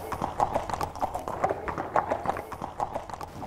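Several racehorses at a Ditcheat training yard walk past, their hooves clip-clopping in a steady repeating rhythm close by, with some murmured voices in the background.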